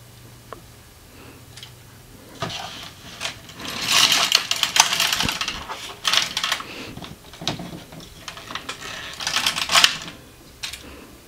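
An LK150 knitting machine carriage knits rows of yarn, sliding back and forth with clustered rattling clicks and ratchety bursts in several passes, close and moderately loud, with quieter handling noises between strokes.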